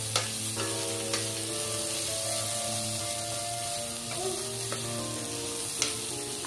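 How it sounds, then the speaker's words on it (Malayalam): Dal lightly roasting with onions in a pan gives a soft, even sizzle, with faint stirring clicks and a quiet tonal hum beneath it, and no talking. "പരിപ്പ് നമുക്കൊന്ന് ചെറുതായിട്ടൊന്ന് മൂപ്പിച്ചെടുക്കണം."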